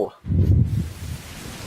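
Rain falling in a Medal of Honor Warfighter scene gives a soft, steady hiss of drops with a low rumbling wash underneath, moderately loud and continuous, with no one talking.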